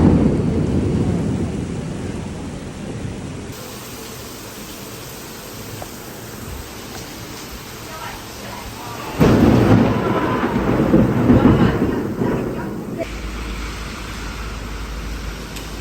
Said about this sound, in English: it started pouring down rain. I've never heard thunder this loud or rain hit this hard before.